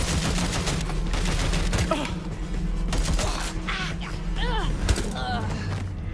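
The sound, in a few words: gunfire in the video game Watch Dogs Legion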